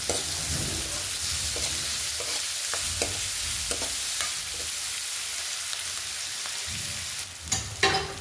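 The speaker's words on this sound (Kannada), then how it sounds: "ಇವಾಗ ಇದನ್ನು ಚೆನ್ನಾಗಿ ಫ್ರೈ ಆಗಬೇಕು." Salted onions sizzle steadily in a hot pan, with intermittent scraping as they are stirred, close and continuous without any talk.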